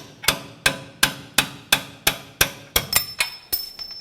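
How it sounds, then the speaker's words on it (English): A steady series of about eleven sharp metallic hammer strikes on a punch driving out a ball joint bolt on a Ford Explorer Sport Trac, evenly spaced and loud, with a ringing tone creeping in toward the end. "We'll use a hammer and punch to remove the rest of this bolt here."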